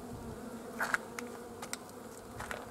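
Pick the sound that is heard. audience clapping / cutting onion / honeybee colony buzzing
honeybee colony buzzing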